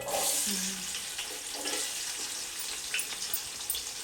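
Onions and green chilies frying for chicken biryani, a steady soft sizzle with faint stirring and clinks running throughout, close up in a home kitchen.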